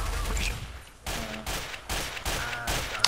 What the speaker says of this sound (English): Just shoot him right now.